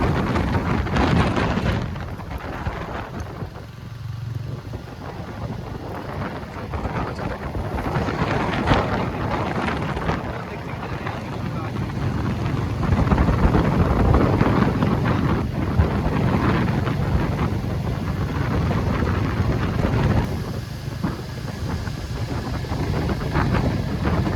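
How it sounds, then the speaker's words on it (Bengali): A heavy storm with strong rain and wind, heard as a dense continuous roar of wind buffeting and rain that swells in the middle, loud and close throughout without speech. "ঝড়ের পরিমাণটা এতটাই বেড়ে গেছে আর এত জোরে বৃষ্টি শুরু হয়ে গেছে হঠাৎ করে"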